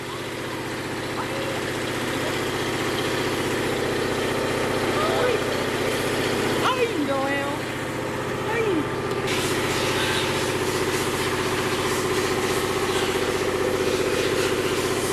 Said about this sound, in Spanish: Pero mira, él quiere enfierrar más el carro.